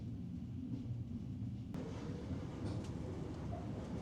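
An Italian intercity train stopping at Messina station gives off a quiet, low rumble of rail cars, steady and muffled, with a brief sharp click partway through.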